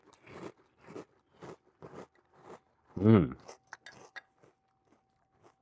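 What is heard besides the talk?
crunching and chewing Apple Pie Toast Crunch cereal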